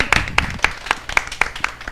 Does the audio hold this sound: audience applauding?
yes